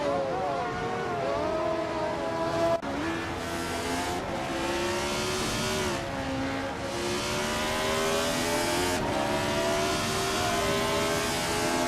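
Race cars in a racing video game drone and rev continuously, engine pitch climbing and dropping through gear shifts, with several cars close together as they jostle to overtake.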